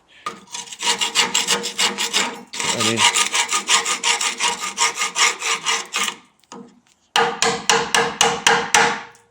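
A screwdriver rasps rust off a Citroen Ami car part in repeated quick strokes, in three bursts with short pauses between them, loud and close, with no talking.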